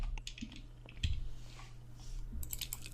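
Keys tapped on a computer keyboard in a short, uneven burst of clicks, close and fairly quiet over a steady low hum, with no talking.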